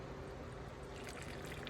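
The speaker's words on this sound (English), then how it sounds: "we're just going to take alcohol that you can consume and just pour it right over the top" Drinking alcohol poured over purslane leaves, a soft, quiet trickling that grows slightly brighter as the liquid keeps flowing, with no voices.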